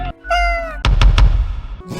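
A video game cat meows in several clear, drawn-out cries with a louder, noisier burst in the middle, close and prominent over a quiet game background.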